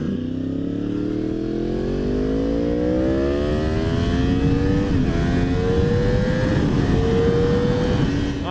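A 2016 Yamaha R1 sport motorcycle with an aftermarket exhaust accelerating hard, its loud engine note rising steadily in pitch through the gears with a brief shift dip, close and continuous.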